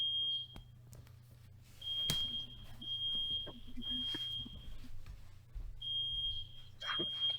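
A high electronic beep repeats in short steady tones, like an alarm chirping, over a low hum and occasional clatter in a quiet room.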